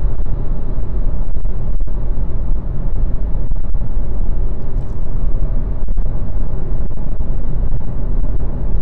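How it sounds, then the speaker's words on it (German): Loud, steady road and engine rumble from inside a VW e-Golf on the motorway at 120 km/h, with wind noise and a VW Passat overtaking at speed. "Jetzt werden wir nochmal von einem Passat überholt bei 120."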